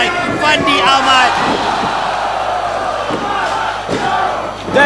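A Singapore wrestling crowd roars and chants loudly for Andrew Tang, a dense, sustained wall of vocal cheering that swells and holds throughout.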